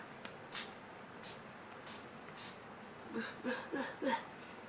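Several short, sharp spritzes of a makeup setting spray bottle, spaced apart, followed by quiet breathy laughter near the end.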